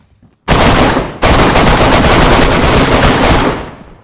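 Rapid automatic gunfire in the video game DayZ, a loud, dense burst lasting about three seconds with a short break after the first volley, then trailing off.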